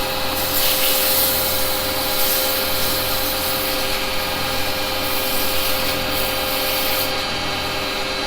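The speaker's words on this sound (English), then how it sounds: "a little bit of sandpaper on there, clean it up anyway" Continuous steady whirring of a spinning wood lathe with a rough abrasive hiss of sandpaper on the turning wood, loud and close, unbroken throughout.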